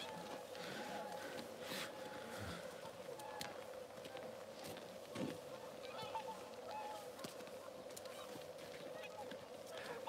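Japanese cranes call outdoors in nature with faint, distant honking cries that recur over a steady background hiss, with no voices up front.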